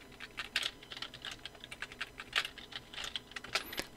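Rapid computer keyboard typing during a graphic design software lesson, with quick irregular keystrokes and a few louder clacks, close and clear with no talking.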